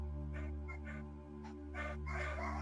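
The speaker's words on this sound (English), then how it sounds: "I thought I'd wait for the dogs to stop barking" Dogs barking in short bursts, several yips and barks spaced irregularly over a steady low hum, fairly faint and somewhat distant, with no talk.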